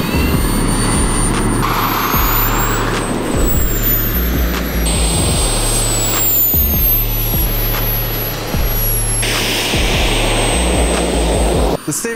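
A small jet-powered hovercraft's jet engine roars loud and steady close by, with a high whine and deep rumble holding throughout. A voice is audible briefly against the engine noise.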